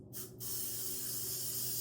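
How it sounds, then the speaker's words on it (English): Two quick hissing spritzes of a glitter setting spray misted onto a face, a short burst followed by a longer close spray, followed by a soft steady room hiss. "the final step is this glitter one size setting spray"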